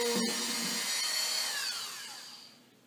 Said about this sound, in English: This also really helps when using the stepper bit.